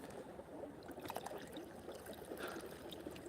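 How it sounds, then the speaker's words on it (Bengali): Water pours and trickles over rice being washed, a soft continuous splashing and dribbling, close but faint, with no talk. "চাল ধোয়া হচ্ছে"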